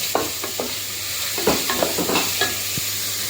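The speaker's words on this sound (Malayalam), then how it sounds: "അപ്പം നമ്മുടെ സവോളയൊക്കെ ഒന്ന് വഴന്നിട്ടുണ്ട്." Onions with salt sautéing in a pan for a chickpea curry, a continuous sizzle broken by repeated scraping stirs of a spoon against the pan.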